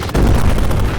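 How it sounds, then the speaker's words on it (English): A placeholder big explosion effect in the video game Dungeons and Blasters erupts after a brief lull, a loud, dense, rumbling blast that sustains for about a second with crackling, gunfire-like texture and no speech. "that's a adjusted placeholder for a big explosion"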